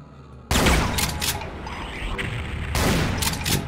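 Gunfire in the video game Brutal Doom 64: a sudden loud burst of rapid weapon fire kicks in after a quiet start, sustained booming shots with crackling impacts, then another strong burst near the end.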